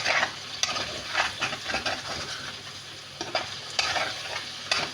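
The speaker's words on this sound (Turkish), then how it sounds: "güzel kızararak dinleniyor, pişiyor, kızarıyor" Köfte sizzling and frying in a pan, a continuous crackle with occasional sharper pops and stirring scrapes, close by and with no talking.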